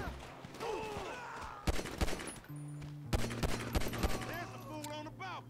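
Gunfire in GTA V, from scattered shots to tight clusters of rapid bursts over a steady background hum, moderately loud, with some talking mixed in.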